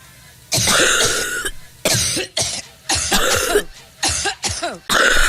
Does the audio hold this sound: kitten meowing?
no